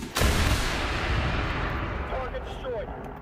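A LOSAT anti-tank rocket fired at a tank in War Thunder goes off with a sharp close blast that gives way to a long, loud, roaring rumble as it fades.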